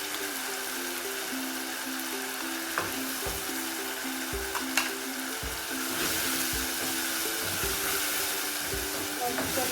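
Oyster sauce hitting a hot pan during stir-frying, a loud continuous sizzle with rhythmic scraping and stirring clatter that swells toward the end.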